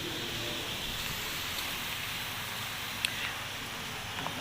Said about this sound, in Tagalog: Maulan kasi ayan mga guys.